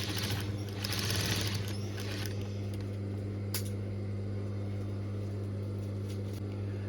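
A sewing machine runs a steady close hum while stitching a fabric scrunchie and finishing with a back stitch, its motor drone continuous throughout with slightly busier mechanical chatter near the start.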